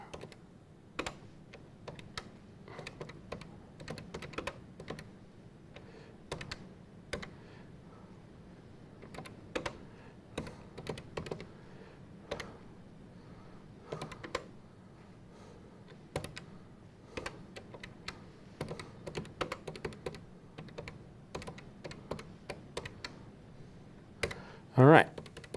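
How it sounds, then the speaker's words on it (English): Someone types a program quickly on a computer keyboard: a steady run of close, crisp keystroke clicks in uneven bursts, with a louder clatter of keys right at the end. "I'm just going to type in everything really quick here."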